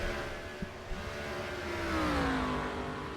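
Race cars in the NASCAR Racing 2003 video game drone steadily at moderate level, one engine note sliding down in pitch as it goes by, with a couple of faint clicks.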